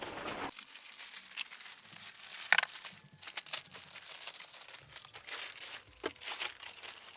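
An outdoor TV cover made of crinkly fabric rustles and crumples continuously as it is pulled down over a 60-inch TV, close and moderately loud with occasional sharper crackles and no talking.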